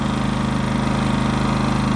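A Predator 5000 watt dual-fuel generator runs steadily at idle nearby, a continuous even engine drone with a low, regular pulse and no talking.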